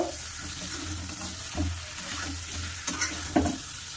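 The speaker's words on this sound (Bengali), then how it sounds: "সেই মটরশুঁটিগুলো দিয়ে দেব। দিয়ে ভালো করে করে কষিয়ে নেব।" Green peas for aloo dum are stir-fried in a pan, a soft steady sizzle broken by several spatula scrapes and one sharper knock near the end, close and alone.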